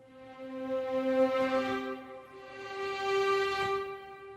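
Sampled legato violin patch playing a melody, with a sustained tone that slides into a second held note; the synthetic line sounds alone, smooth and moderately loud, with no voices.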